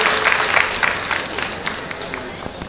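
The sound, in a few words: audience applause at a retirement ceremony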